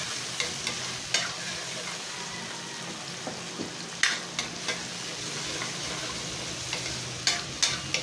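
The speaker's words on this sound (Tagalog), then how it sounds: "Ground black pepper muna, sabay natin doon sa gisa para mabango." Aromatics with ground black pepper sauté in a pan, a continuous close sizzle broken by scattered sharp clicks and scrapes from a stirring utensil, with no one speaking.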